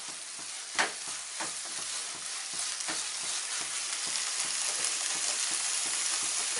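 Lauki (bottle gourd) halwa stirred and dried in a pan over a low gas flame, a steady close sizzle with frequent soft scraping stir strokes throughout and no talking.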